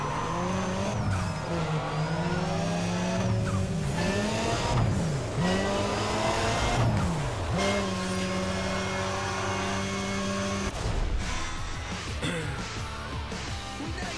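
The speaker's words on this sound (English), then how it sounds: "So we got a good burnout." A tuned Mitsubishi Eclipse in Need for Speed ProStreet revs hard through a burnout, loud engine tones rising and falling for several seconds while tires squeal steadily underneath, then the engine settles and climbs again.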